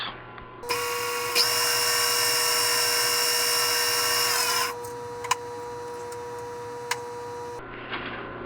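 A number 7 drill whines steadily at high speed, drilling a tap hole on a Wheel Horse 704 tractor, shifting pitch midway as it bites into metal, with a couple of sharp clicks near the end.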